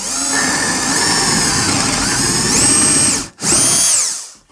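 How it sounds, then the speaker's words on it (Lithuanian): A power drill bores into a furniture panel through a drilling jig, a loud, close, high whine that holds steady, cuts out briefly, then spins up again before stopping. "Ir gręžiu vėl"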